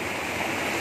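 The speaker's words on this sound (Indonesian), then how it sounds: "Jadi inilah sungai yang saya cakap itu." River stream at Kampung Lotong in Kudat, flowing as a steady, even wash of water without a break, close and moderately loud, with no voices.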